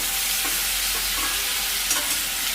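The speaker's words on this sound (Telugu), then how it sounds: "ఉల్లికారం స్టఫ్ చేసి పెట్టుకున్న కాకరకాయ ముక్కల్ని యాడ్ చేసుకోవాలి యాడ్ చేసుకొని చక్కగా వేయించుకోవాలి" Stuffed bitter gourd pieces with turmeric and curry leaves frying in hot oil, giving a steady, dense sizzle with faint stirring scrapes, close and continuous, with no voices.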